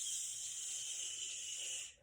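A person makes a long, steady "shh" hiss, imitating an elephant spraying water, held for about two seconds before cutting off.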